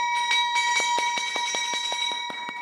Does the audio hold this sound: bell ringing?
yes